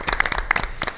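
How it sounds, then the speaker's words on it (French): A small audience applauds in a hotel setting at a Dodge and Ram event in Martinique, with distinct individual claps in a quick, uneven rhythm, close and fairly loud. "On peut les applaudir."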